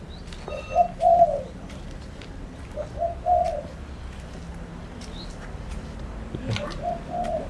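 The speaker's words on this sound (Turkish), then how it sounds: "Her kuş var." Pigeons coo in soft, throaty bursts every couple of seconds, near and clear over a light outdoor background with faint chirps, in Ubud, Bali.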